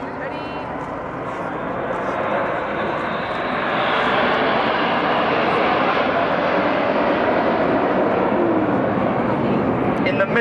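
A Red Arrows Hawk jet accelerates at an air show, a loud broad roar that swells after a few seconds and holds steady, with a commentator's voice running beneath it.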